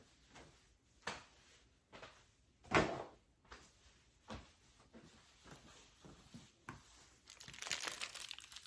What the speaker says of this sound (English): So you'll close the foil.